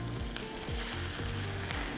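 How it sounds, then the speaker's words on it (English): Food dropped into hot oil fries with a steady, close sizzle that runs unbroken throughout, with faint low clatters underneath. "I'm just going to pop those into the hot oil. That's sizzling away nicely there."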